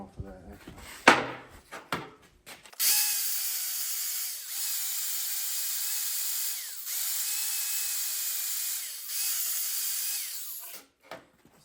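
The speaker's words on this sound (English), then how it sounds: "I think I could stand to grind a little bit more off of that actually." An angle grinder grinds down a weld on a steel high steer kit for a Super Duty truck: a loud, close, steady high whine that holds for several seconds, dipping briefly twice as the disc lifts, after a few clunks of handling.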